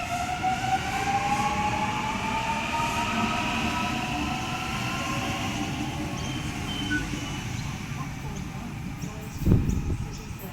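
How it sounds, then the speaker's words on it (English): A Millennium M3 train rumbles steadily into platform 1 at a Sydney station on the South West Rail Link, wheels grinding with rising whining tones over the rails, and a brief louder clunk near the end. "the next train that arrives on platform 1, which is mine"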